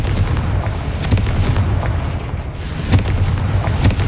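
Confringo spell blasts in Hogwarts Legacy, a series of loud, booming explosive bursts with crackling impacts repeating through a noisy game soundscape.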